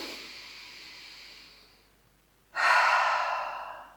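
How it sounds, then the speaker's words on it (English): A deep cleansing breath in a yoga class: a long, soft inhale through the nose fades out, then after a short pause a stronger, breathy exhale through the open mouth follows, close and quiet with no talking. "we're going to do 3 cleansing breaths. So inhale deeply through the nose. Open your mouth."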